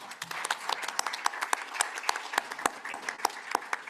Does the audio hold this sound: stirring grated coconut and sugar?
no